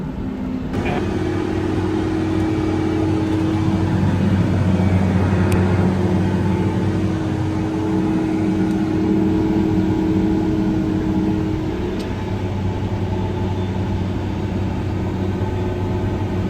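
Farm vehicle driving slowly down a road beside a rain-soaked soybean field gives a loud, steady engine drone with a sustained hum, constant throughout and alone.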